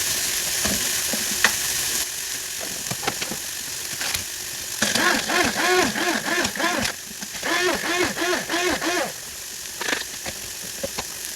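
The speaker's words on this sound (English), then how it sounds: "Mix up my noodles a little bit" Noodles stirred in a pan with onions, giving a sizzling crackle and scraping strokes, joined midway by bursts of a rhythmic buzzing mechanical whir, no talk.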